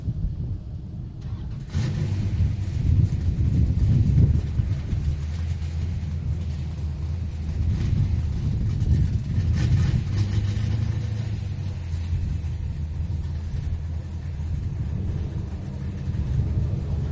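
Two 1995 Camaros launch side by side at a drag strip, a turbo car among them, with loud low engine rumble building, a sharp rise as they leave the line, then sustained roaring that gradually fades into the distance.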